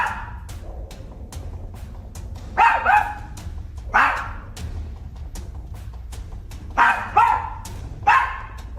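A dog barks in a living room, giving a pair of sharp barks, then a single bark, then two more, spaced over several seconds at moderate distance over a low steady background hum, with no talk.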